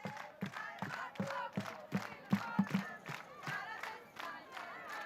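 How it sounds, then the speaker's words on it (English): A European crowd at the roundnet world championship gold medal match chants rhythmically in unison for Germany, with loud repeated cheers pulsing at a steady beat. "You can hear the crowd now, not only the Germans, but a lot of the European crowd rooting for Germany right now."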